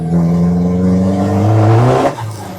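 A carbureted car engine revs hard and loud up close, a steady throaty roar with rising harmonics that climbs, holds, then drops off abruptly near the end.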